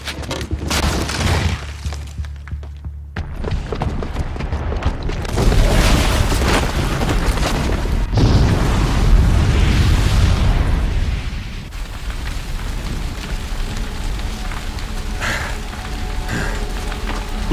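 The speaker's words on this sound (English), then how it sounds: "Because the booby trap on the bomb downstairs is gonna get set off." A bomb's booby trap detonates in Horizon Zero Dawn, a loud, heavy boom with long rumbling debris and crackling that fills the scene, then slowly settles into a lower roar.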